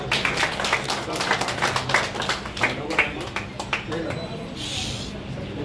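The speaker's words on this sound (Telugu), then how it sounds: "అది ఇప్పుడు కొట్టాలి చప్పట్లు" Applause at a police sub-inspector's retirement ceremony: a crowd claps in quick, uneven bursts while people talk over it, and the clapping thins toward the end.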